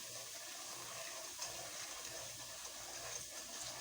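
Water poured into a cooking pot of fried spice masala while making spicy beef nihari, a steady close rushing pour lasting throughout with no talk.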